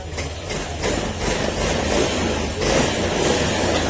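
A Yamaha Aerox 155 scooter engine idling after a fuel pump fix, loud and close, a steady rough mechanical rumble with rattling that holds level throughout, no talking.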